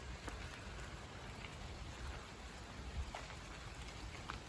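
Faint, steady rain patters on leaves, a soft continuous hiss with occasional louder drops and no voices.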